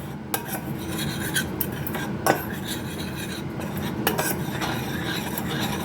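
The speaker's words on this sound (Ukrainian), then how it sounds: "Перемішую." A spoon scrapes and clinks steadily around a metal saucepan of cocoa, with occasional sharper taps against the rim over a soft continuous rasp.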